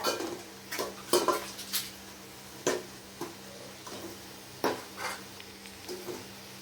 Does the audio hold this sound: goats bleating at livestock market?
no